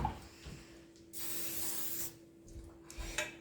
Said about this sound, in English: Make sure I spray it nicely.